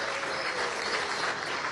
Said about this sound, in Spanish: Tómale un aplauso a las estudiantes y a los estudiantes.